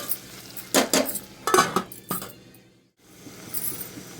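Lid lifted off a pan of capsicum fry (shimla mirchi), then a spoon stirring and scraping the cooking vegetables, giving several close, loud metallic clinks and clatters in bursts followed by softer scraping and a brief quiet pause.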